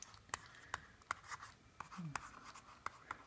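A stylus writes notes on a Sony Digital Paper tablet, making soft scratchy strokes and light taps in an irregular rhythm, faint and close in a quiet setting.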